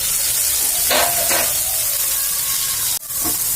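Chopped tomatoes sizzle steadily in hot oil in a pan for a dried fish curry, with a couple of louder bursts of stirring and a sharp clack of a utensil near the end, close and without talk.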